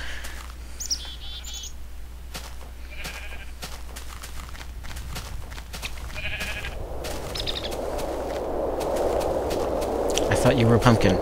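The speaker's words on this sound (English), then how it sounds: "These sheep are everywhere." Sheep bleating in Minecraft, several short bleats among chirping birds and other game sounds, with a rising wash of noise toward the end.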